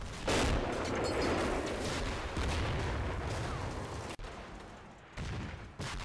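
Gunfire and mortar impacts in the wargame Combat Mission Battle for Normandy: a burst of heavy shots up front, then rolling rattling fire and thuds that continue for several seconds, with brief gaps near the end.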